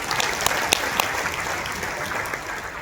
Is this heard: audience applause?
yes